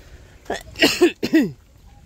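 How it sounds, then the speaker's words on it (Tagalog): A person coughs a few times in quick bursts, the coughs fairly close and clear outdoors among banana plants in a rural province, with a quiet background between them. "Di pa rin nawawala yung ubo ko."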